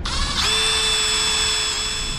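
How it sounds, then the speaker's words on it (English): A power drill bores a hole through a plastic shaft piece inside a wine cooler refrigerator, a steady high whine that spins up and holds for about two seconds, close and alone. "So let's drill a hole through this."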